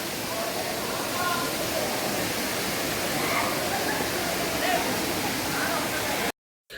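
Loud, steady roar of rushing water from Mashenuloddi Waterfalls in Mulugu, where two waterfalls meet, close and continuous, ending abruptly.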